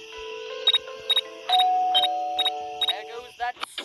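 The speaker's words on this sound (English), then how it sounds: "There goes that stupid bell again" Doorbell in the video game Scary Teacher 3D, a repeating electronic chime pressed about six times in quick succession over a sustained tone, close and fairly loud.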